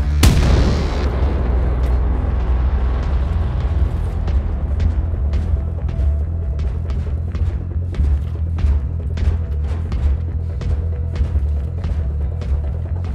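A grenade blast in the shooter game Wolfenstein II: The New Colossus, with a loud, close boom at the start followed by a long rumbling tail and scattered crackling pops.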